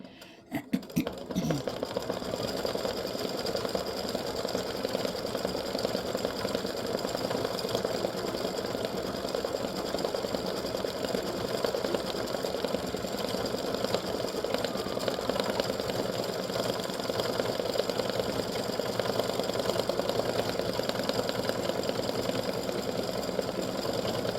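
An embroidery machine stitches a free-standing lace Easter egg gnome earring design, its steady mechanical hum and rapid needle chatter running continuously and close, unbroken from start to finish.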